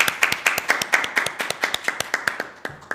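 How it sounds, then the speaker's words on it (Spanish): Members of a constitutional convention subcommittee clap for the speakers, a sparse and evenly paced series of distinct claps, roughly five per second, fairly close and moderate in volume, with no talk over them. "Les damos un aplauso."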